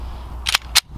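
Two sharp gunshots fired at a can, quick and close together, crisp and fairly loud against a low background rumble.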